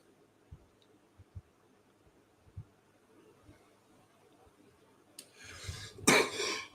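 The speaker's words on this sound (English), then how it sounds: "See, I'm still coughing from that crap." After a quiet stretch with a few faint soft thumps, a person nearby lets out two harsh, raspy coughs in quick succession.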